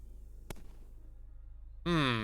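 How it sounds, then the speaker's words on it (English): A single sharp bang from a bomb exploding in the puzzle game Moncage bursts out once over quiet background, and a bright rising tone follows near the end. "there goes the bomb"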